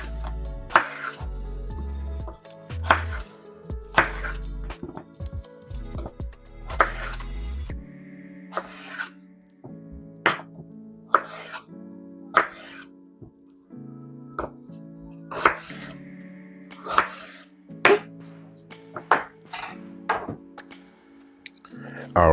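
A knife chops sausage and potatoes on a cutting board into small pieces, sharp repeated thunks in an uneven rhythm, close and clear, with a quiet background hum between cuts.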